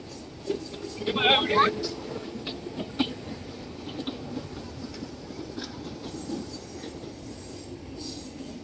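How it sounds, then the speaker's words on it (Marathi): A train rumbles past close by, with a brief high metallic wheel squeal early on, and voices talk faintly over the steady rolling noise. "हे पहिली ट्रेन."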